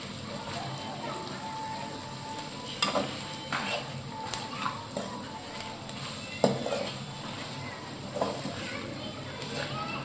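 Fenugreek seeds fry in hot oil in a pan for a fish curry, giving a steady sizzle with a spoon stirring and scraping at irregular moments, close and moderately loud, with a voice talking over it.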